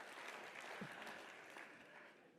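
An audience claps continuously, a dense, even patter of applause at moderate volume that slowly tapers off.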